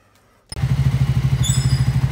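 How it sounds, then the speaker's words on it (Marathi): A Triumph Scrambler 400X motorcycle engine catches from a cold start after a short starter burst and settles into a steady, loud, rhythmic idle, close by. "Bike is ready, cold start केलेली आहे, लेट्स गो।"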